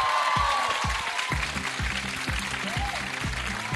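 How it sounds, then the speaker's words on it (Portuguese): A studio audience on a TV comedy show claps for a guest, a sustained bright patter of applause alongside low rhythmic thumps, loud and continuous throughout. "Salve de palmas para a Tati Piriguete."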